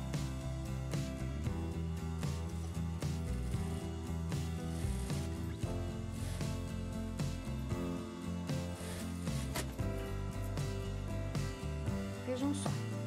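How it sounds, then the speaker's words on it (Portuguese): A sewing machine runs a seam joining two pinned fabric pieces for a winter mask-scarf, giving a continuous close mechanical whir and clatter throughout, steady in loudness without pauses. "Vou passar agora aqui uma costura, unindo essas duas peças."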